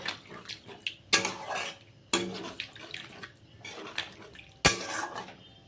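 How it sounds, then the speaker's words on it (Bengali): A spoon stirs a soybean, capsicum and poppy-seed curry in a pan just after water is added, making irregular close clanks and scrapes against the metal over wet, sloshing sounds. "জল দিয়ে একটু নেড়ে চেড়ে দিয়েছি"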